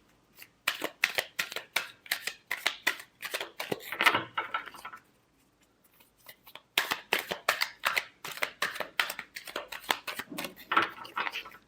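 Tarot cards are shuffled by hand in rapid riffling bursts, crisp and close, with a short pause midway before the quick flicking resumes.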